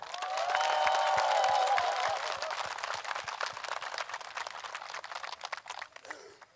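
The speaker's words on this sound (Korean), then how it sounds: "우리 악단 여러분에게 박수 한번 주세요." Applause from a concert audience at a Korean trot medley show, a dense spread of many clapping hands that swells loudest near the start, then thins and fades out, heard alone without talk.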